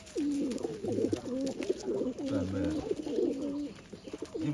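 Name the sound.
pigeons cooing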